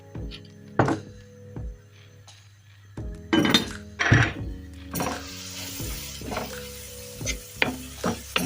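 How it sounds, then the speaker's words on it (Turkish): Onions frying in oil in a pan while being stirred, with salt added, for a Turkish yogurt-and-spinach dish: a steady soft sizzle broken by scraping stirs and a few knocks and clinks of a utensil against the pan, close up. "Ara ara karıştıralım soğanımızı."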